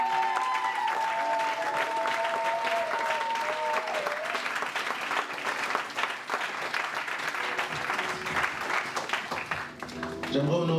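Church congregation at an evangelical mission gathering bursts into sustained, dense applause and cheering that fills the room steadily for the whole stretch, with a few voices and tones rising above the clapping.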